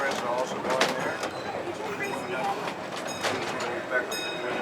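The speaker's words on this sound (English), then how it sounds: "We throw the switch, the trains are backed up, and the monorails are also going there." Trains on a Disneyland railroad line, with rail cars being backed up after a switch is thrown, give a continuous mid-distance rumble and rattling clatter throughout, with talk over it.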